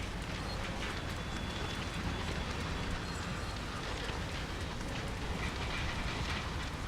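A train rolls along steadily in Train Sim World on the Peninsular Corridor, with a continuous rumble and faint rhythmic clatter of wheels on track, heard from inside or close by.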